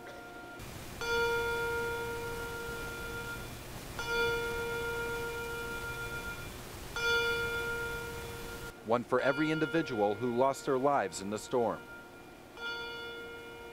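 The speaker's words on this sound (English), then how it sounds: "the ominous sound of a bell ringing 53 times" A single bell tolls slowly for a moment of silence at a memorial, three ringing strikes spaced about three seconds apart, each fading out, before someone speaks and another toll begins.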